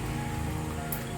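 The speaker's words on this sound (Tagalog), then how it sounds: "Ulan po, ay grabe." Steady heavy rain falls on surfaces outdoors near a house, making a dense, continuous hiss with no voices.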